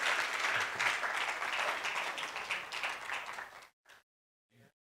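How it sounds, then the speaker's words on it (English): Applause from an audience honoring the panelists at an immigration panel, dense and sustained clapping for nearly four seconds before it cuts off sharply, followed by two short isolated bursts. "Let's give them a round of applause."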